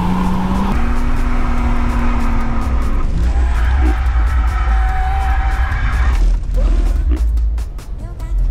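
A 231 hp TDS car drifts with loud, sustained tire squeal and skidding over a steady engine roar, heard close up; faint talk is mixed in.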